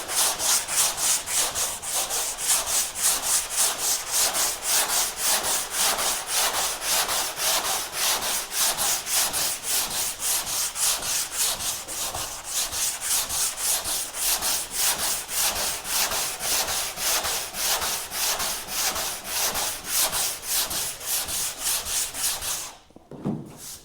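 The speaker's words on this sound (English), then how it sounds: "the only point of it is to sand out the 40 grit and the 80 grit scratches, which it will do" Someone sands the bodywork of a Galant hardtop car by hand with 120 grit sandpaper, making rapid, rhythmic rasping strokes close up. The strokes run steadily and evenly, then stop abruptly near the end.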